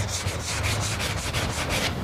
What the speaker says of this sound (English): I'm going to sand this here like this